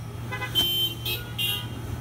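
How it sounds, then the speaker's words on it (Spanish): Car horns honked by a drive-in church congregation during a sermon: three short toots from different vehicles at a distance, over a steady low engine hum. "Si lo tiene, toque la bocina."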